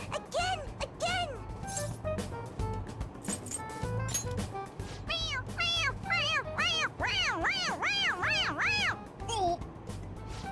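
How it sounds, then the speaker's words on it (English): A toy cat in Persona 5 Royal meows each time its head is pressed: a string of short, bright meows that quicken into a rapid run of repeated cries toward the end, with speech mixed in. "It meows when you press on its head."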